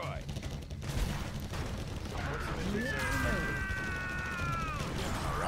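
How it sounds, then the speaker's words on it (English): Laser tanks attacking in the real-time strategy game Generals Evolution: mechanical weapon fire and a sustained rising electronic laser tone, heard under ongoing commentary. "here I come, coming in with my tanks there. Some laser tanks."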